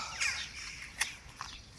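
A few crow caws ring out outdoors in Poltava region, Ukraine, one near the start, a sharper one in the middle and another toward the end, over low background rumble.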